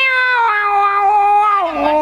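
A cat gives one long, sustained meow, loud and close, its pitch holding steady before dropping away at the end; no talking is heard.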